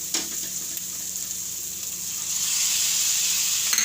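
Vegetables fry in oil with a close, steady crackling sizzle that grows a little louder and brighter partway through, with a few faint stirring clicks.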